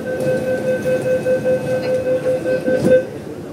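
A metro train pulls out of a station toward Admiralty, its steady loud rumble and rhythmic wheel clatter filling the space, with a sustained tonal hum from the motors running underneath.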